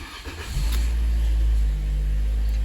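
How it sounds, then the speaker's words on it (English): A Toyota Scion engine cranks briefly, then catches and settles into a loud, steady idle rumble close by. "listen to the engine turn over"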